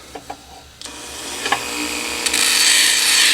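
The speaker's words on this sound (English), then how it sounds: "So where we bring in the handy dandy Dremel tool." A Dremel rotary tool lightly buffs and cleans the end of a custom arrow wrap, starting with a few scattered ticks and rising into a steady, close high-pitched grinding whir that grows louder toward the end.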